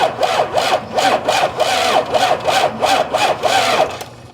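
An abandoned 1993 Dodge Ram Cummins diesel, sitting for 18 years, cranks over on a new starter with an even, labored chug, pulsing about twice a second before cutting off.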